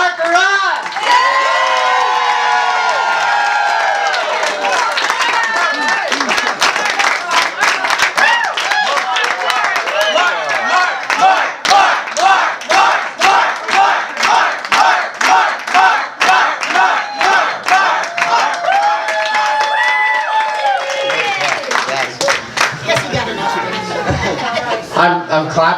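A crowd at a Tom Wolf campaign event at the Monroe County Democratic headquarters claps and cheers loudly, with rhythmic unison clapping building over shouts and whoops, close and sustained for most of the stretch before thinning near the end.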